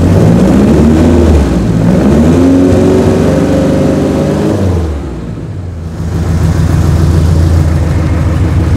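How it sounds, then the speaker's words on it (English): An old sports car engine running after ten years unused, a loud steady idle with harmonic drone that rises and falls through revs, dips briefly near the middle, then settles back to a rough, even run. "So the engine runs fairly smooth."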